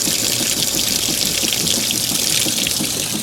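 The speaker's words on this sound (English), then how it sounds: "And it's refilling with hot" A washing machine refills with hot water on its rinse cycle, a steady, loud rush of water flowing into the drum that holds without a break.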